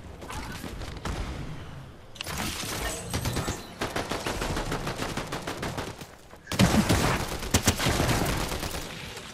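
Bursts of rapid gunfire in the video game Fortnite, loud and close, with short pauses between volleys and a few sharp mechanical clicks.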